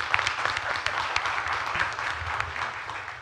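Public hearing audience clapping in a council chamber, a steady spread of individual claps of moderate loudness with no talk over them.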